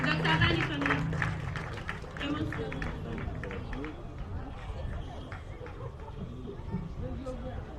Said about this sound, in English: Dr. Vandy Kone, please let's clap for him.